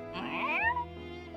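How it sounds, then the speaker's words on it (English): A cat meows once, close and clear, in the visual novel The Fruit of Grisaia, a pillow cat just woken from sleep; a rising then falling cry fades into a quiet background. "Makina's pillow cat has woken and is staring"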